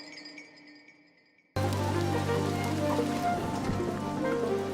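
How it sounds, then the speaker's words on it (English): Steady rain falls on a surface outdoors at night, a dense, even patter that starts abruptly after a quiet stretch with a faint tone and then continues loud and constant to the end. "Oh no, I just realised it's raining"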